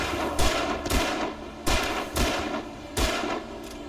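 Gunfire in the video game Alan Wake Remastered: about five loud, sharp shots fire in an uneven rhythm close by, each followed by a short echoing decay, with no talk over them.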